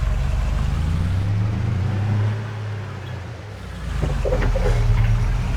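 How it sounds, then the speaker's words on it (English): A running engine gives a steady low hum and rumble that dips slightly midway and then swells again, close and continuous with no talking. "Yeah, there's just a little humming in the engine."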